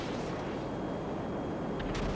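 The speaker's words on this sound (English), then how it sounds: "I'm hearing explosions." Deep, rumbling booms and blasts in GTA V roll continuously, heavy low-end explosions blending into a dense roar with no talking.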